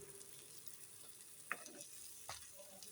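Masala-coated fish frying in a pan for a fish curry: a faint, steady sizzle and crackle, with a couple of brief taps or scrapes from a utensil partway through.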